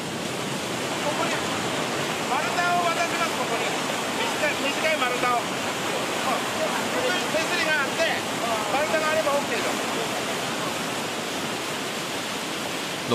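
A swollen upstream mountain river rushes with a loud, steady roar of water throughout, close and unbroken, and a faint voice briefly shows through the noise.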